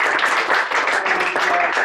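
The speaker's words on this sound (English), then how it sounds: "a round of applause for Chris Sanson" A crowd at a 2022 sports awards night claps for a runner, a short burst of steady, full applause with faint voices mixed in.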